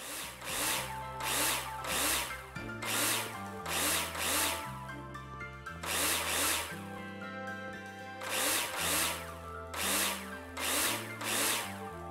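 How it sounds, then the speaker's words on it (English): A power drill whirs in repeated loud bursts while driving into a build in the construction game Builder Simulator, layered over a steady tonal hum with no talking. "let's drill everything in that needs to be drilled"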